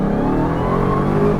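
A 2022 Dodge Charger SRT Hellcat Jailbreak engine revving hard under acceleration, a loud, close, continuous deep roar with rising harmonic tones and no talk.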